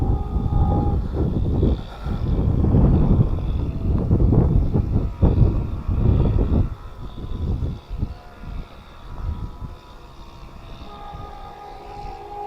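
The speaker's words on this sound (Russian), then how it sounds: "Ветер сильный, может чуть-чуть быть плохо слышно." Loud, gusty wind buffets the microphone with broad low rumbling, easing somewhat toward the end, while faint tonal hums sound in the background.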